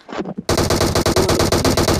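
A Tommy gun fires in the game PUBG, a rapid continuous burst of loud, close automatic shots with a rhythmic rattle, after a brief softer sound at the start.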